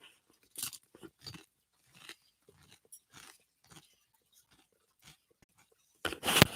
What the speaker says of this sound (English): please pardon the crunching noises